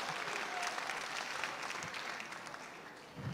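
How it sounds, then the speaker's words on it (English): A hospital town hall audience claps after a lucky-number draw, giving many hands a continuous, mid-distance patter that holds steady and tapers slightly near the end. "Give everybody a round of applause."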